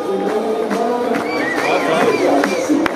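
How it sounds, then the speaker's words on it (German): Spectators lining the streets during the anniversary Lindwurm parade in Ober-Ingelheim clap and cheer, a busy crowd din with scattered claps, whistles and raised voices throughout. "Auf geht's und schön in die Hände klatschen."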